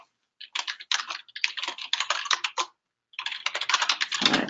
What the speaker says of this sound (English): I'm going to type it in there so everybody can see in the chat